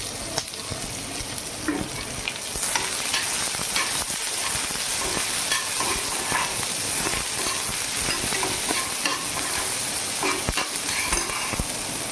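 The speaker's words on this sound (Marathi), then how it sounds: "आता कांदा घालूया." Chopped onion frying in oil in a pan for a dry moth bean sabzi gives a steady hissing sizzle, punctuated by light stirring clatter, close up and without speech.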